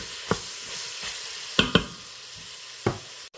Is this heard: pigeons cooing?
no